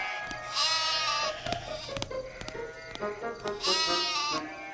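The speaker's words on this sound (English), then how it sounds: "Hey, sheep! Go to sleep!" Cartoon sheep bleat in long, wavering cries, loud and close, with a shorter bleat in between and animated background sound.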